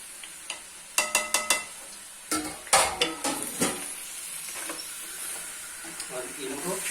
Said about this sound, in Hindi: और इनको थोड़ी देर भून लेंगे अच्छे से, तेल आंच खोल के इनकी बुनाई करेंगे।